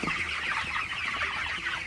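Broiler chickens kept on a litter floor in a poultry shed, clucking and chattering as a busy, steady chorus at moderate distance without a pause.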